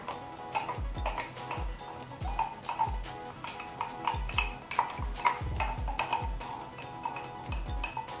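Ground spice paste for a basic seasoning base being sautéed in a pan, with repeated close spatula taps and scrapes in an irregular rhythm over a faint sizzle.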